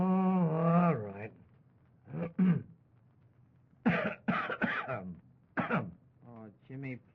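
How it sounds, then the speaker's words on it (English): A man coughs and clears his throat in a short burst during an old-time radio comedy, followed by lively exchanges of speech between characters. "I had a little cough in my throat, and I wanted to cough"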